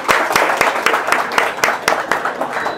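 Crowd applause and clapping at a boxing weigh-in show, a dense run of claps with sharp accented hits, loud and close, mixed with crowd voices throughout.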